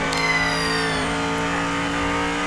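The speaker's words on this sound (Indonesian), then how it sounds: "Susah sekali menghentikan mobil pemadam ini," A fire truck driving fast on a mountain road, its engine a steady loud hum with the pitch sliding down midway, close and continuous with no talk.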